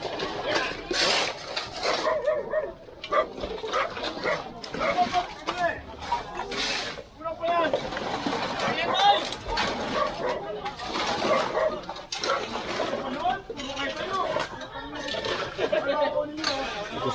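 A dog barks repeatedly at a house with trash heaped inside, mixed in with continuous nearby talking and some clattering of pots or dishes.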